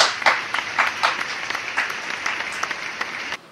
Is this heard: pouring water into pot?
no